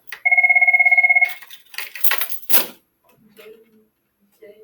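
A telephone rings with one electronic trilling burst of about a second, followed by handling noises and quiet speech.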